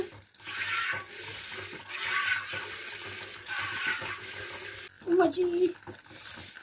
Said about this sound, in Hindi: यहाँ पे ना इस छन्नी के अंदर पानी भी चू रहा है